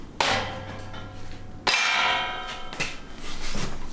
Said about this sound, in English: just give it one good smack